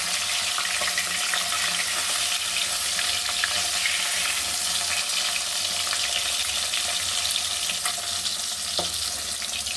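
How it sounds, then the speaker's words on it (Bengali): Pieces of rohu fish fry in hot oil in a pan, giving a loud, continuous close-up sizzle and crackle with occasional pops that lasts unbroken for about ten seconds. "মাছগুলো আমার লাল লাল করে ভাজা হয়ে গেছে"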